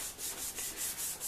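Sandpaper rubbing back and forth across a plastic car headlight lens during restoration with a Rain-X kit, a steady rhythmic scraping in about six even strokes, close and moderately quiet, with no talk.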